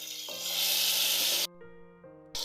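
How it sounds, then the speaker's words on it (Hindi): Green chilies and tomatoes sizzle loudly as masala sautés in a pan for tinday gosht, the broadband frying hiss cutting off abruptly partway through with a steady tonal hum left, then returning briefly at the end. "इसको थोड़ा भूनेंगे। भूनकर फिर इसमें गोश्त शामिल करेंगे।"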